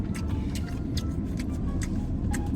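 A car driving along, a steady low engine and road rumble with faint ticking on top, heard from inside the cabin with no talking.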